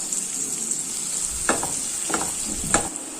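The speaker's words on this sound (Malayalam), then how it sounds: "ഇനി ഇതിലേക്ക് കുറച്ച് കറിവേപ്പിന്റെ ഇലയും കൂടി ഇട്ട് കൊടുക്കാം." Curry leaves sizzling in hot oil in a pan, a steady hiss with a few sharper crackling bursts, fairly faint.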